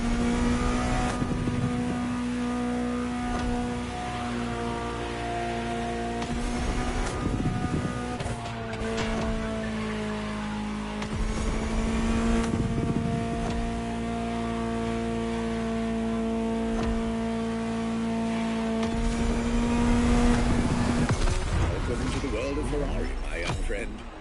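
A Ferrari supercar engine in The Crew Motorfest racing game holds a steady, loud drone that swells and eases through the run, with a spoken voice over it.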